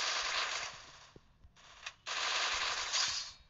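Automatic weapons fire in Free Fire on the Bermuda map, bursts of rapid gunfire with a short lull in the middle before another long burst, crisp and fairly close.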